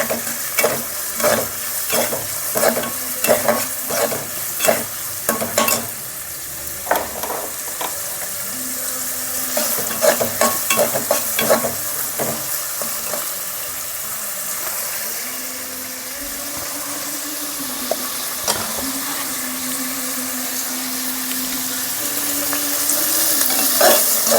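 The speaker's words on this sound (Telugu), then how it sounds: "ఉల్లిపాయలు వేగాలండి" Onions frying in a pan for a Telugu-style boti gongura curry, a steady sizzle broken by repeated scraping stirs with a spatula through the first half, then a smoother continuous hiss.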